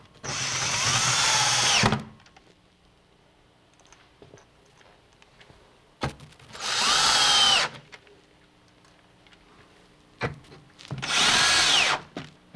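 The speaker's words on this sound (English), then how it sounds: "we're going to use a 3/4 inch sheet metal screw to drive them in" A power drill drives 3/4 inch sheet metal screws into the steel panels of a door booth. Three separate bursts of loud whirring are broken by quiet pauses, with faint handling noises between them.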